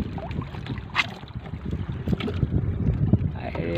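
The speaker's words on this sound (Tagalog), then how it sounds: "Lumalakas na ang hangin mga idol." Strengthening wind gusts buffet the microphone over the steady rumble of a small fishing boat on open sea.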